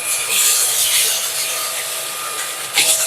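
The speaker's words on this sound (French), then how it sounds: "La tête rotative ne fait qu'une bouchée de la semoule, du riz ou encore des pâtes" An Erabros EV1 cordless vacuum cleaner with a rotating head sucks up semolina, rice and pasta, giving a loud steady high-pitched whine mixed with rattling grit and a brief swell near the end.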